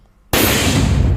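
Defused pressure IED bombs planted in the Pachrukhiya and Akrahat forests in Bihar are destroyed in a controlled detonation. A sudden loud blast breaks the near silence, then a heavy, roaring rumble holds at full strength.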